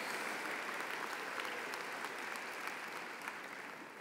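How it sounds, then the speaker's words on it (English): A large high school commencement crowd applauds in a dense, sustained wash of clapping that stays steady and fills the space, fading only slightly toward the end. "Give yourself a round of applause."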